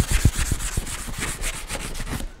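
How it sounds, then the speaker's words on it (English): Light scuff sanding on a furniture piece being prepped for paint gives quick, close, rhythmic rubbing strokes of abrasive against wood, heard alone. "I'm going to clean on the front, which I've done, a little bit of a scuff sand."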